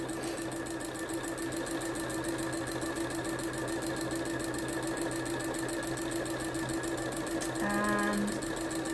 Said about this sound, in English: I'm just going to sew my seam.